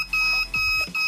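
Repeated electronic beeping from a gas leakage alarm buzzer on an ESP8266 safety system, steady tones in bursts with brief gaps, fairly loud and close, with a low hum beneath.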